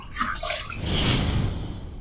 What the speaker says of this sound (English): All right, first pass done. Let's rinse.